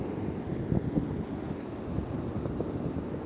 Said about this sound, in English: now the wind is picking up quite a bit